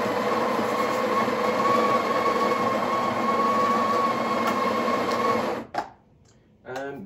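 A Breville Barista Express BES870 built-in burr grinder grinding coffee beans, a steady loud whirring hum close by that cuts off near the end, followed by a brief mechanical click and a short second burst.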